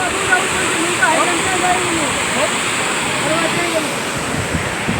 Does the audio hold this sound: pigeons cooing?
no